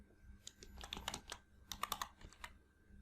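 Quick keystrokes on a computer keyboard while entering data into an Excel spreadsheet, a light, close patter of a dozen or so clicks in uneven bursts, quiet and alone.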